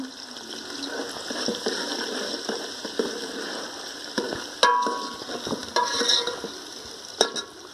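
Onions frying with garlic, ginger and green chili paste for a matar keema with potatoes and peas, sizzling steadily as a spoon scrapes and stirs the pan in repeated clacks, close and fairly loud, with no talking.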